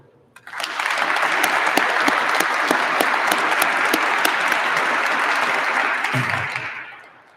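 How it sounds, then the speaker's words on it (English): Sustained audience applause at a chief's swearing-in ceremony, honoring the mayor, with a dense steady wash of many hands clapping that rises quickly, holds for about six seconds, then fades out. "another round of applause, please, for Mayor Dolly"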